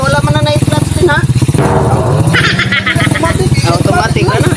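An automatic motorcycle with a banded engine runs close by, giving a loud, continuous, rapidly pulsing engine rattle with clattery mechanical noise throughout and brief rising revs.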